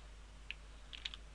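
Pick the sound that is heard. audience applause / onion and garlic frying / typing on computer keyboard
typing on computer keyboard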